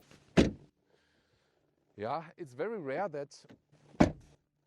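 A frameless door on a 2026 Mercedes-Benz CLA petrol car shutting with a solid close thunk, heard twice with a pause between, and a voice speaking in the gap.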